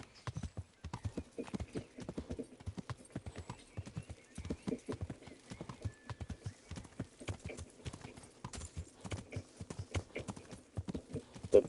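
Horse hooves clip-clop steadily in the medieval video game Kingdom Come: Deliverance, a continuous rhythmic trotting with an occasional snort or whinny, close and clear, with faint voices underneath.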